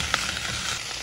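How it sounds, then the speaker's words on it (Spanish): Chiles and cherry tomatoes frying in a pan, a loud, continuous sizzle with a single sharp pop near the start. "Los chiles ya se empiezan a dorar un poquito. Voy a agregar mis tomatitos."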